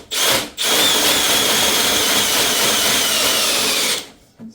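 Sewer drain snake machine spinning through a line clogged with roots, a loud continuous whirring grind that briefly cuts out near the start, then runs steadily for several seconds with a slight drag before stopping.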